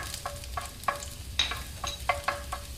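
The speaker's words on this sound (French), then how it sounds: "Je vais maintenant ajouter l'ail émincé, que je vais faire revenir une petite minute avec" Minced garlic and chili fry in olive oil in a pan, a soft sizzle punctuated by regular light taps and scrapes of a utensil stirring, close but fairly quiet, with no voices.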